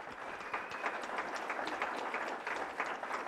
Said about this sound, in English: Let's give him another great,